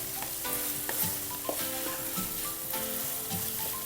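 Onions for a Kerala-style egg masala sauté in a pan toward brown, giving a constant close sizzle broken by scrapes and clacks of a stirring spoon.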